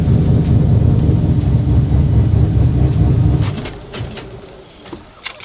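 A sequential burnout truck's engine revs hard and loud for about three and a half seconds with a deep sustained roar, then drops off to a lower idle with a few fainter blips.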